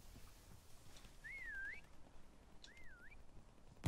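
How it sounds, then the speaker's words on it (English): Two clear, faint whistled phrases, each a short rising-and-falling tone, sound from a distance in Call of Duty WW2 Prop Hunt over a quiet, low background with no talking. "I'm just hearing whistle after whistle."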